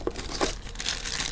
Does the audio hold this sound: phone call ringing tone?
no